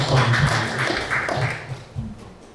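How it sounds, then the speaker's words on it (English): Scattered applause from a small meeting audience, several hands clapping close by in an uneven patter that thins out over a couple of seconds. "You got applause."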